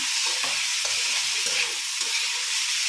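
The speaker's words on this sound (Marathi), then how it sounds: "आपण छान असं परतून घेऊया भाज्या ज्या आहेत ते पूर्णपणे परतून छान अशा झालेल्या आहेत" Mixed vegetables for a pulao sauté in a hot kadai, a constant bright sizzle broken by regular scraping strokes of the spoon about twice a second, close and steady with no talking.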